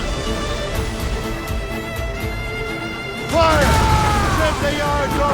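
A ship's cannon fires an explosive shot during a naval battle in Assassin's Creed Rogue, a sudden loud boom partway through that rolls into a sustained, rumbling blast over steady battle ambience and shouted voices.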